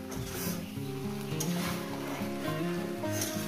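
Vegetables frying with Katla fish eggs and fish oil in a pan, a continuous soft sizzle with light stirring, mixed with steady background music or tones.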